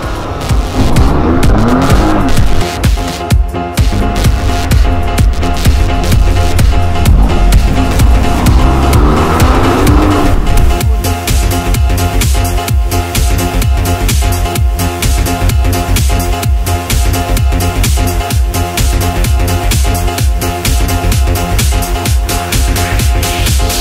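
An Alfa Romeo Quadrifoglio sports car with a manual gearbox drives past loudly, its engine note rising and falling through rev changes before settling into a sustained, close roar.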